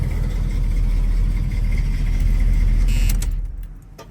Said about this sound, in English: Really nice idle. Love the exhaust.